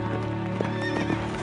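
Red, bay and white horses clip-clop along while neighing and whinnying, with steady hoofbeats close by under a sustained tonal backdrop.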